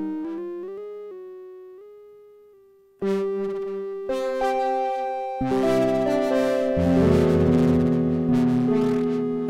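Prophet Rev2 synth with a simple plucky patch layered on top and pitched up an octave: a few soft plucked notes, then a bright sustained chord that swells fuller and louder as the layers stack.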